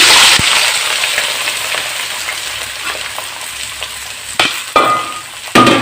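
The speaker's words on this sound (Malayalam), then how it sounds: "എണ്ണ തിളച്ച് ഞാൻ ഈ കോവയ്ക്ക് അതിനകത്ത് ഇടുകയാണ്" Loud, steady sizzling of ivy gourd frying in hot oil for pickle, easing slightly, then a few sharp clatters near the end.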